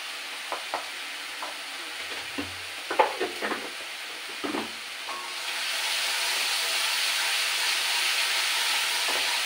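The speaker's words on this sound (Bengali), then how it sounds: "বারবার একটু জল দিয়ে এটা কষিয়ে নিতে হবে" Taro sizzles in a pan for a taro and prawn curry while salt and turmeric are stirred in. A few light spoon clinks come first, then a steady frying hiss swells and holds.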